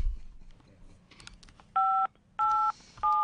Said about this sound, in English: Okay, they're still dialing the phone.